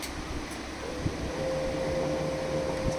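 A printer switching on: a steady motor hum with a faint tonal whine starts partway through and continues over quiet room noise.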